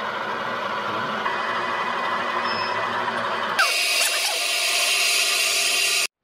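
A steady mechanical hum suddenly gives way to a loud, high-pitched, continuous drilling whine that runs to the end, as a 1.5 mm solid carbide drill bores into a part of an L405 Range Rover.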